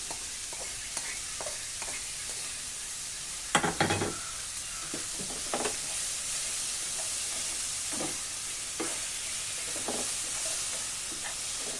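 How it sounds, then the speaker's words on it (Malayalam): Dried red chillies sizzle and fry in hot oil for an onion-tomato chutney, a steady close hiss with occasional sharper crackles and stirring scrapes. "ഞാൻ വറ്റൽമുളക് വറുത്ത്"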